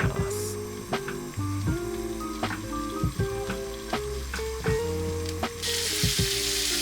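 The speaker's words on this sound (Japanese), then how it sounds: "アンチョビの方もね、ちょっと形を崩しながら、ちょっとずつ炒めていきま" Onions and anchovies stir-fried with garlic in a pan, the anchovies broken up as they cook, giving a close, steady sizzle punctuated by repeated clacks and scrapes of a utensil against the pan.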